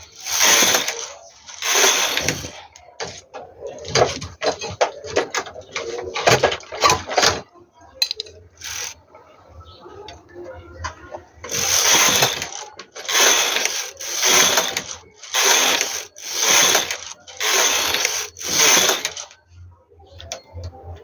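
A home knitting machine carriage is pushed back and forth across the needle bed knitting rows, making loud rattling, clacking mechanical sweeps in bursts with brief pauses between them, close and alone.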